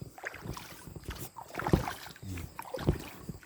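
Oars or paddles splash and knock as a small rowboat moves along a garden canal, with irregular dips and two sharper thuds amid light wind noise.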